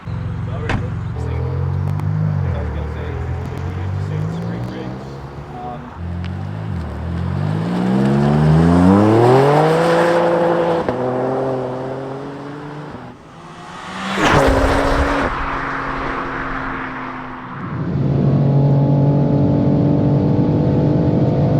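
A BMW G87 M2 and a G81 M3 Touring are driven hard, with their engines revving, climbing through the gears and dropping back, and one whooshes past up close. A voice talks over the engines.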